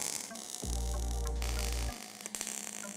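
Tack welds join square steel tube legs for a Scandinavian-style desk: a single steady electric arc buzz of about a second, with a faint hum before and after and no talk.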